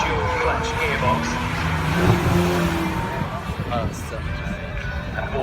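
Supercars at the Carfest North track event roll toward the start line, their engines rumbling and droning under a commentator talking over the loudspeaker.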